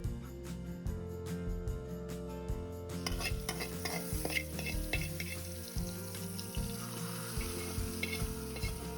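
Asafoetida and curry leaves fry in hot oil for a pumpkin sambar tempering, a soft sizzle layered with repeated stirring scrapes and clinks of a spoon against the pan.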